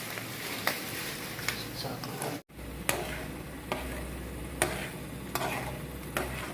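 Ingredients fry in oil over a low flame with a steady, soft sizzle, broken by occasional sharp stirring clicks and taps from a utensil against the pan, up close.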